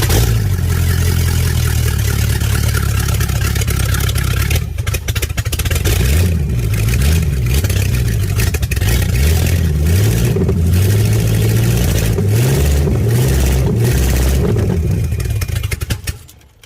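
A Mopar 440 stroker V8 with a gummed-up carburetor fires up on a run stand, roaring loud and close with a rough, lumpy idle and repeated throttle blips revving it up and down throughout.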